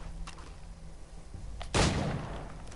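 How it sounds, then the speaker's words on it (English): A loud gunshot blast from firearms in the video game Assassin's Creed 3, a single sharp crack near the middle followed by a rumbling decay over steady battle ambience. "There's already so much gunfire"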